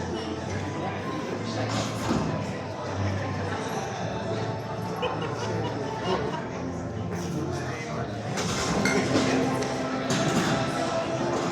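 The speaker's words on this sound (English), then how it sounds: "We're going to magically, you will not see it, remove the tables and the chairs." Tables and chairs are cleared from a university venue at a book launch, with scattered knocks, scrapes and thuds from the furniture under continuous crowd murmur and talk, busier toward the end.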